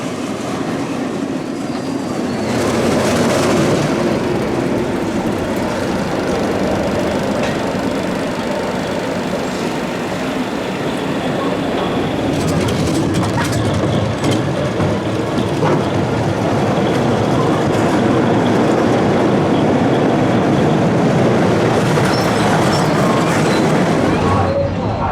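A ride on the Hornet roller coaster at Flambards theme park in Cornwall, a steady rolling, rattling rumble of the cars on the track that continues throughout, loud and close, with a surge partway through.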